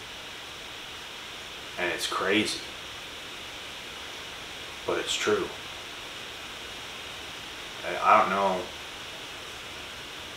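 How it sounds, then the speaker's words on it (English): Heavy rain pours down outside in a steady, broadband hiss that runs unbroken in the background while a person talks in three short bursts over it. "but it just started pouring down rain out of nowhere, and it's loud."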